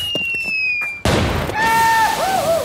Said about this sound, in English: Take this nade. And we yeet it over here.